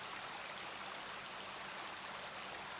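Steady river water flowing beside an outdoor yoga session, a continuous broadband rushing wash that holds even and unbroken throughout, with no voices.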